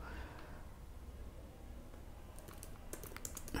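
Keystrokes clatter on a computer keyboard while code is typed, quiet and steady at first, then sharper, denser clicks in quick bursts toward the end.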